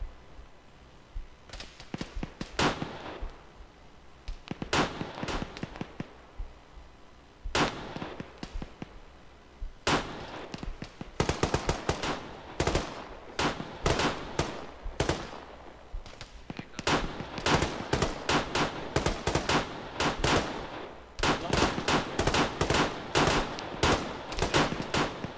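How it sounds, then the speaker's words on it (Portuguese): Rapid bursts of machine gun fire in the video game Arma 3 crackle repeatedly, some long sustained volleys and some short, loud and close throughout. "Mais disparos da esquerda"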